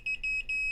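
Multimeter continuity tester probing a floppy connector on a Macintosh logic board, giving a thin high electronic beep that pulses repeatedly in a quick stuttering tone.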